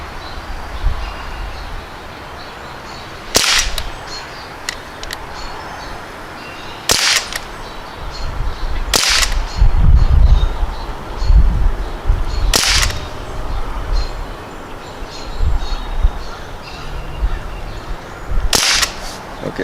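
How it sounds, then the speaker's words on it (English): An Umarex Ruger 10/22 air rifle fires five sharp, loud shots, freestanding, spaced a few seconds apart with brief pauses between, over steady outdoor background noise. "I'm going to fire 5 rounds both ways. Now first we're going to do freestanding"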